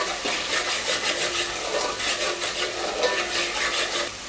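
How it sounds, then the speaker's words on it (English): Onions and ginger garlic paste sauté in a pan for a chicken curry, a soft continuous sizzle with faint rhythmic stirring scrapes, close and steady, without any voice. "Saute the onions till the ginger garlic paste and the onions become one"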